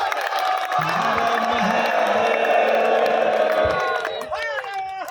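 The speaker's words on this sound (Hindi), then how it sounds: "करतल ध्वनि से यानी ताली बजा करके" A crowd claps and cheers together in welcome at a family gathering honouring team members after a terahvi memorial; dense, steady noise fills the whole stretch, with voices mixed in.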